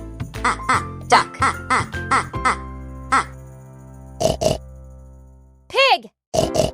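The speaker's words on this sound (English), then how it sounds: "Pig." A pig oinks and grunts in short, close bursts, first in a quick cluster and then in a few spaced calls with brief silences between them.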